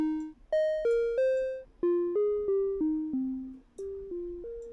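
A modular synth patch built in Reaktor Blocks sends an oscillator through a filter and an amplifier, playing a clear, bright melodic sequence of plucked, decaying notes that step up and down in pitch.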